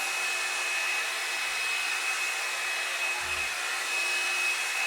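A hair dryer blowing close and loud in a steady, unbroken hiss as it dries hair for a salon-style blowout at home, with only faint brief thumps and no talk.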